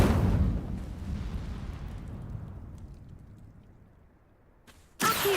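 A fire spell, Incendio, cast in Hogwarts Legacy on PC, erupts as a loud whooshing burst that rumbles and fades over several seconds, followed by a sharp new blast at the very end.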